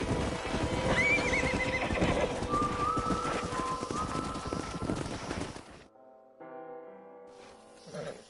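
A horse in the Western video game Red Dead Redemption whinnies loudly and close, its hooves clip-clopping beneath, before the sound drops away to quieter game ambience.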